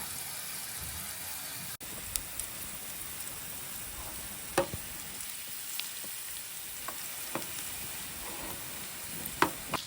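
Shrimp fry in a pan of olive oil with garlic and lemon at an outdoor camp breakfast, a quiet steady sizzle with occasional soft pops and clicks.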